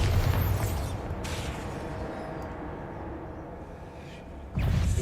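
A Bombarda spell explodes in the video game Hogwarts Legacy, a deep booming blast followed by a rumbling tail, with a second loud burst near the end.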